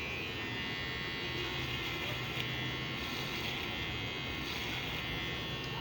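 A hair clipper blade sharpening machine runs with a steady, close electric buzz and hum that stays even the whole time, with no talking.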